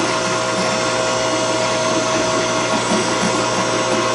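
A Hydro-Gear hydrostatic pump part is machined on a lathe or mill with coolant running, giving a steady, loud broadband whir with a constant tonal hum throughout and no speech.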